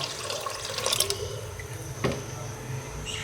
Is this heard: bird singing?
no